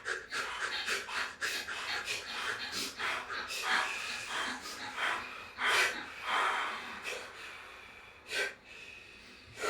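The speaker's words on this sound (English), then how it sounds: "repeatedly exhale until you can't exhale any further" Repeated forceful exhales during a breathing exercise come as a run of sharp, breathy puffs in an irregular rhythm, close and fairly loud, with no talking.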